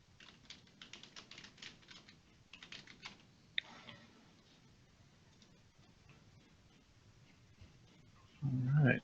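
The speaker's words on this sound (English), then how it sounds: "I'm just typing." Typing on a computer keyboard, rapid bursts of close clicking keystrokes for a few seconds, then a pause with light background noise and a louder noise at the end.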